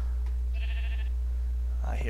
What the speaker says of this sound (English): I hear a sheep already.